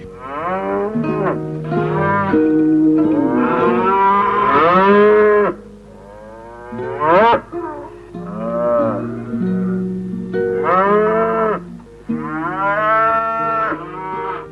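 Cattle on a countryside ranch moo repeatedly, a series of loud, drawn-out lowing calls from several cows, close by, with short pauses between them and no talk.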